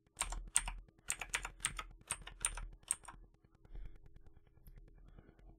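Rapid bursts of typing on a computer keyboard, about seven clustered clacking strokes close up in the first three seconds, then sparse quiet taps trailing off.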